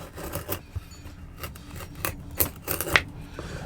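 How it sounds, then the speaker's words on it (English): A knife shaving thin slivers off a fire-starter block in a winter campervan, giving soft, uneven scraping and rasping strokes with a few sharper cuts, close and fairly quiet with no talking. "take one of the blocks and just cut off some slivers"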